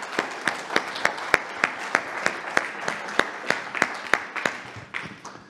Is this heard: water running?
no